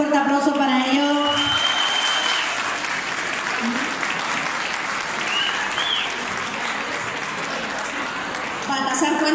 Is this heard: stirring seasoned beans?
no